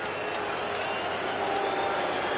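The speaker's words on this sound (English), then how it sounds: "It's the loudest we've heard the crowd today." A large stadium crowd roars continuously at an AFL football match between the Sydney Swans and West Coast Eagles, a dense, loud, sustained wash of cheering with no break.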